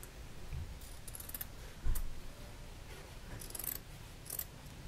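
Scissors trimming the fabric corners of a large three-pocket purse, soft close snips and a few crisp clicks spread over several seconds, quiet and with no talking.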